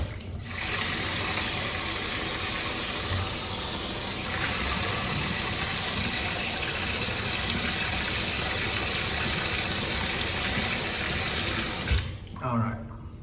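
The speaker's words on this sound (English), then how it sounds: "Get the cold water running." Cold water runs from a bathroom tap into a sink in a steady, even rush that holds for several seconds before a clunk near the end.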